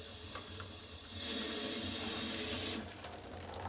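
Tap water rinses an orchid pot in a sink, a steady close splashing stream that swells briefly louder midway before easing off.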